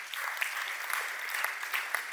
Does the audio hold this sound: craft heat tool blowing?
no